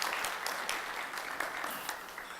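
An audience at a public conversation event in Trinidad claps for a visiting speaker, with steady, fairly full applause and scattered individual hand claps standing out throughout.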